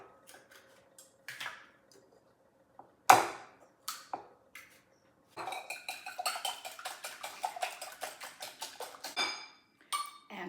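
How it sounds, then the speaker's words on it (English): Four eggs whisked in a small bowl for a pecan cinnamon strudel coffee cake, heard as a run of quick, close, rhythmic whisk clicks against the bowl after a few scattered knocks and clinks. "now in a small bowl, we're going to whisk 4 eggs."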